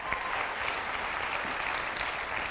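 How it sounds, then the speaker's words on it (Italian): An audience at an Italian television show applauds steadily for an arriving singer, a dense, even clapping that continues without pause. "L'applauso partirà spontaneo"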